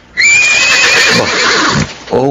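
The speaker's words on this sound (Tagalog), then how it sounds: "Kundi yung mga halinghing ng kabayo." A horse gives a loud, close whinny. The shrill, wavering call falls in pitch and is followed by a short snort-like second call, with no voices.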